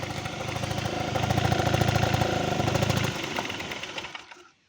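A Honda Dio AF34E scooter engine runs steadily with a buzzing two-stroke idle, swelling louder in the middle before dropping away and cutting off near the end.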